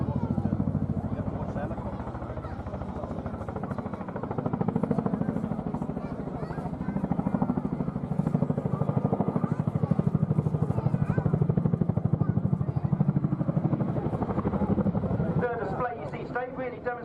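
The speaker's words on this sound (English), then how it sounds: "We'll be catching the Chinook at 45 degrees nose up." An RAF Chinook helicopter performs at the Torbay Airshow, its steady heavy rotor thrum droning loudly throughout, with a pronounced blade chop near the end and voices audible over it.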